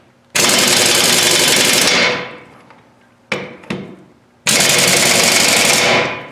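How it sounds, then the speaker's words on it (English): A 1/2-inch air impact wrench fed from a compressor at 175 psi tightens a fastener on a DT466 truck engine. It gives two long, loud hammering machine-gun rattles of about two seconds each, separated by a pair of short bursts. "It sounds like a machine gun. I mean, at this point, I'm tightening it"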